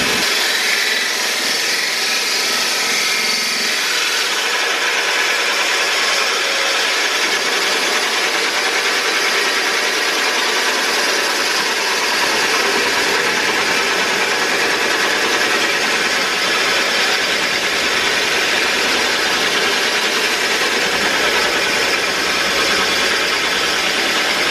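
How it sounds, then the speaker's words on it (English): Drill boring steadily through aquarium glass, a continuous high whining grind that holds level throughout, loud and close, with no speech. "then I hold that in place as I'm drilling"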